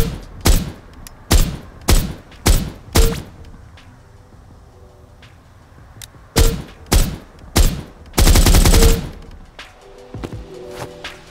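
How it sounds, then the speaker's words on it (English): Indie multiplayer FPS weapons fire on a shooting range: two sharp clusters of four or five loud single shots, then a short continuous automatic burst, with quiet gaps between. "I created a shooting range so I can test my weapons and just see how they handle in the field."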